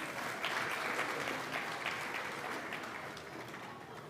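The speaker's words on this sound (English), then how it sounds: "Let's give them a round of applause." A school audience at a Black History elocution contest claps steadily in a hall, a dense sustained applause that slowly fades a little, with no voices over it.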